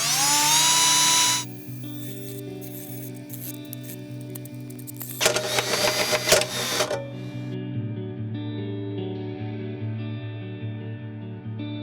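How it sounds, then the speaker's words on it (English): A step drill bit in a power drill cutting holes through sheet metal clamped in a table vise: steady motor whine with a loud grinding, screeching burst of cutting in the middle. "I clamped the sheet metal onto the table vise and used a step drill bit to drill out the holes."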